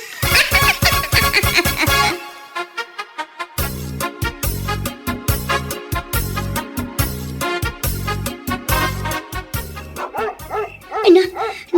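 A dog yips and barks in a rapid series of sharp, loud bursts close by, with brief pauses, some whimpering, and voices mixed in among the barks.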